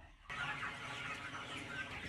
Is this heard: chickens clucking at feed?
yes